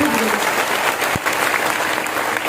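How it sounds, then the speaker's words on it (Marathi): Audience applause for two singers at a devotional kirtan gathering in a Maharashtrian village, a steady dense wash of clapping from a crowd that carries on evenly throughout. "त्यांच्याकरताही जरा जोरदार टाळ्या वाजवा"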